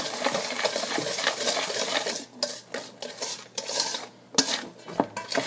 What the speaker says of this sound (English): I'm just going to use the whisk to stir this together.